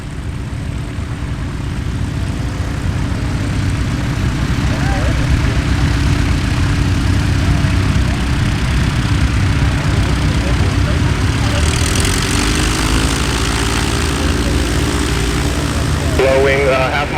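A light propeller airplane landing at EAA AirVenture Oshkosh in a crosswind, its engine a steady, loud, close drone through the whole stretch, with faint voices mixed in beneath it.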